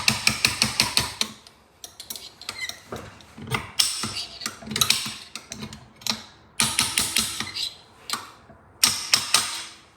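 Sharp metallic hammer blows on the pressure bolt of an Orbitalum RPG4.5 electric tube bevelling machine, struck from below; rapid clustered taps come in several bursts with brief pauses, close and fairly loud.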